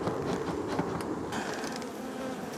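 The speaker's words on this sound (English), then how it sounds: "The buzzing gets louder as we go deeper into the hive." Honeybees swarm and drone inside an open beehive after being calmed with smoke, a loud, close, continuous buzz with individual insects flying near the listener.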